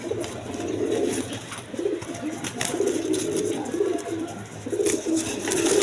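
Domestic pigeons cooing steadily at a pigeon seller's lofts, a soft, low, continuous warbling chorus of several birds close by, with a faint background hum.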